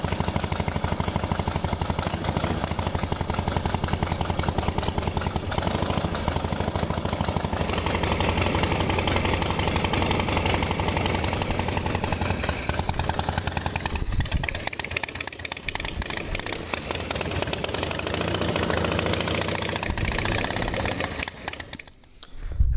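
A 1973 Harley-Davidson Sportster engine runs loud and close in a steady, rough idle with dense mechanical clatter for about twenty seconds before abruptly dying away near the end.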